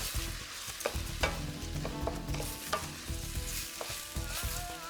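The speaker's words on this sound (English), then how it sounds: "And we want that sizzle, that's perfect." Beetroot risotto sizzles steadily in a hot pan as stock goes in, with stirring scrapes and small pops throughout; the sound is fairly quiet and close, with no voices.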